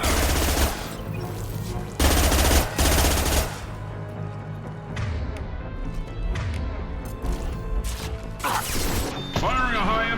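Heavy gunfire in the video game Mass Effect 2, a high-impact shot among loud bursts of automatic fire and thuds, with intermittent game noise and mechanical clatter between volleys.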